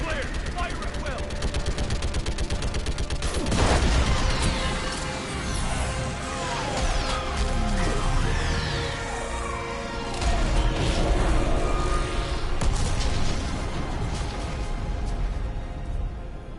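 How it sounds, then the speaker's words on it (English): Orbital strike explosions in Mass Effect 3 Legendary Edition rumble and crash in a long, dense, loud barrage with roaring debris and mechanical noise throughout, while voices talk over the blasts. "I need an orbital strike."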